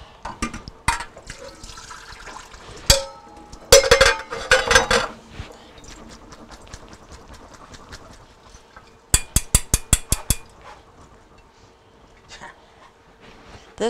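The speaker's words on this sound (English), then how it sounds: "And I've got to drain my spaghetti." Cooked spaghetti, seven ounces broken in half, drained in a kitchen, with water splashing and pouring in bursts, then a run of sharp clattering knocks of pot or colander.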